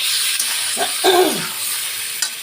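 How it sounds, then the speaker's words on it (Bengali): Spices being stirred into papaya and potato curry with soybean in a pan, a steady close sizzling hiss with soft scraping strokes and a brief clack near the end. "দিয়ে ভালো করে আমি সব মশলাগুলো মিশিয়ে নিচ্ছি পেঁপের সঙ্গে আর আলুর সঙ্গে"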